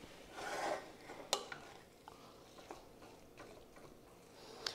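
Meat being stirred in a cooking pot, with scraping and clinking of a utensil against the pot in a few separate strokes and taps, fairly faint, no talk.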